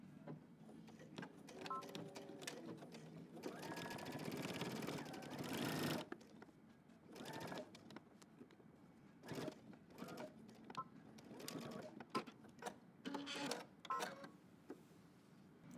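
A sewing machine stitches a jeans jacket pocket in short bursts, one sustained run of a couple of seconds followed by several brief start-stop stitches with quiet pauses, fairly faint and close.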